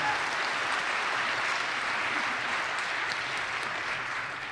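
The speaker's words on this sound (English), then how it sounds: "I know we're doing a lot of applauding" An audience at a public talk and reading event claps steadily, a dense, even wash of applause filling the room throughout without a break.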